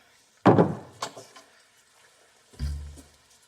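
An indoor door swings shut with a solid thunk, followed about two seconds later by a second low, heavier bump, both fairly close with quiet room tone between.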